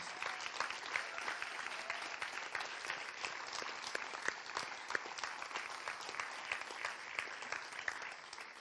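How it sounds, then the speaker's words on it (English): A seated audience applauds steadily at a poetry event on human rights, even dense clapping heard from a moderate distance, fairly quiet and sustained with no voices over it. "Can we give all those people a round of applause, please?"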